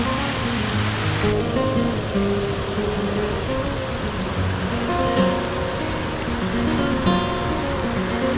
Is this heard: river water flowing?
yes